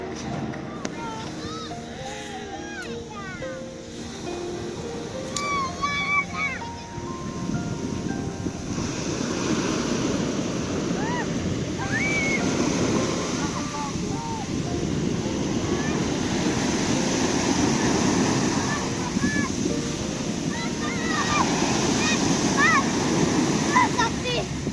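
Ocean waves wash steadily onto a beach with a broad, continuous roar and gusts of wind buffeting the microphone, while faint voices come through near the start.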